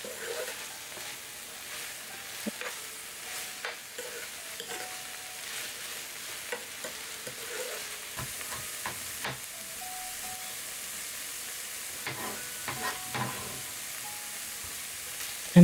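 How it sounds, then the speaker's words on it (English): Ground beef and freshly chopped onion frying in a pan give a steady close sizzle, with intermittent stirring scrapes and clinks throughout. "that meat has cooked a bit and brown, I'm adding some freshly chopped onion."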